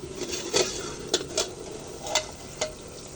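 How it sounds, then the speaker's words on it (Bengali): Taro stolon curry cooking in oil in an open pan, with a steady close sizzle and bubbling broken by a few louder scrapes and clacks of stirring. "কচুরলতির থেকে কিন্তু খুব সুন্দরভাবে তেলটা ছেড়ে গেছে। কত সুন্দর তেলটা ফুটছে দেখুন শুধু।"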